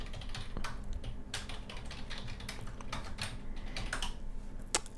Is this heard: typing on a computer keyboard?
yes